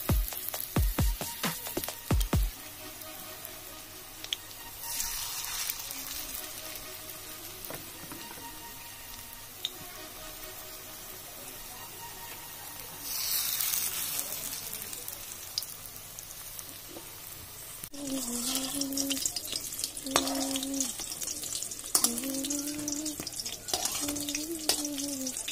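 Jute leaf pakoras frying in hot oil, a faint crackling sizzle with a few sharp knocks and stirring sounds near the pan, joined partway through by louder clatter and a brief tonal squeal over the bubbling.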